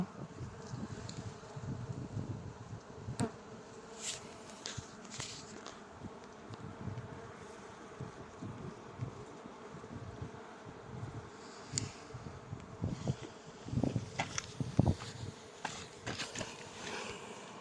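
Several bees work over ten o'clock flowers (portulaca) of a new variety, their buzzing rising and falling as they move around, with faint rustles and light taps mixed in.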